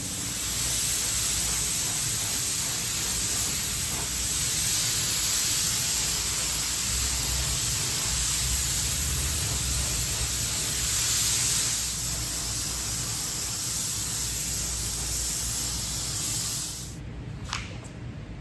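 A spray gun hisses steadily for about seventeen seconds, laying green paint onto the chassis of a vintage Team Associated RC10T2 radio-controlled truck, then cuts off, leaving faint room noise.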